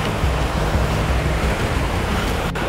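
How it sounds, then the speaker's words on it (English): A creek in the Idaho backcountry during spring rushes past in a constant broadband roar, close and unbroken, with wind noise mixed in and no speech. "Trying to get across this creek."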